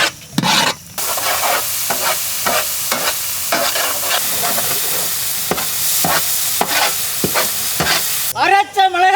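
Green chillies fry and are stirred in a pan with ground ginger-garlic and chopped tomato for a goat-ball masala, giving a steady loud sizzle broken by repeated scraping stirs. A brief whistly sound comes at the end.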